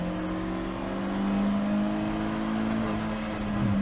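Race car on the Brands Hatch circuit during a GAZ Shocks 116 Trophy race, its engine droning steadily and loud with a rising, shifting pitch as it draws past another car, no voices.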